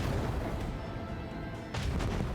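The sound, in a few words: starship macro cannon fire in Warhammer 40,000: Rogue Trader video game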